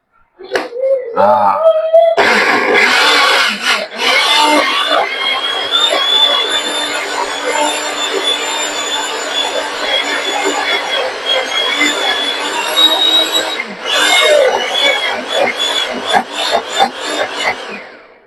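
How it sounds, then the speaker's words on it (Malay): An electric blender grinds sliced onions for a Borneo-style mackerel curry, its loud, steady motor roar kicking in after a couple of seconds and running close-up, with a brief dip near the end. "kita kisar dulu bawang-bawang yang kita iris tadi"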